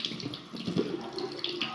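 Water runs from a tap while someone washes their face, a brief close trickle with small splashes and shifting flow.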